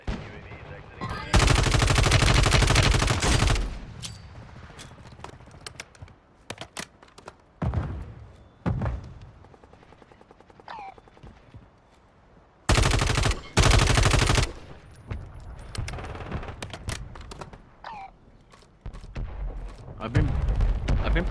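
Bursts of automatic gunfire in a Call of Duty Modern Warfare III Warzone battle royale match on Vondel, loud sustained volleys near the start and middle with scattered single shots between, while a player talks over the action.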